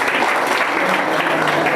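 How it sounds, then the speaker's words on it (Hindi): Steady, dense clapping from a room full of people at a quiz session in a career institute, loud and continuous with a few voices mixed in. "चलो फिर ताली बजा दो"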